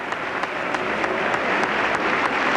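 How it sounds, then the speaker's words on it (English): Steady, dense applause from a large audience filling a hall at the 1992 State of the Union address, sustained and even throughout with no voices standing out. "After the introduction, of course, there will be more applause."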